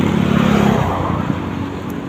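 Traffic rolls over a long bridge in a steady, close rush of car noise with a low engine hum, the flow easing slightly as it goes.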